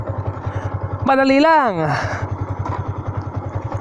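A manual motorcycle engine idles close by with a rapid, even putter throughout, while someone speaks a short phrase over it in the middle.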